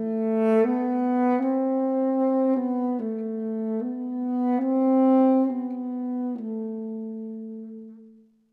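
Solo saxophone plays the slow opening passage of Ferling Etude No. 23, a smooth legato phrase of sustained notes with gentle swells, played alone and clear until it fades at the end.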